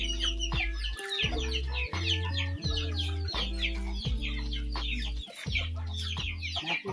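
Several chickens cluck and chatter continuously close by, with occasional sharper squawks over a low steady hum.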